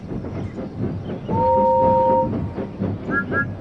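Steam engines from a Thomas remake chuffing along rails, with a sustained two-tone whistle in the middle and short whistle toots near the end over steady rolling train noise.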